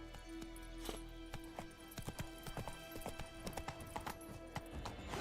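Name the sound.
horse Roach hooves running in video game The Witcher 3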